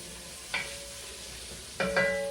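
Onions sautéing in a pot for lamb stew give a low, steady sizzle, broken by a couple of sharp utensil clinks against the pot while stirring, with no talking.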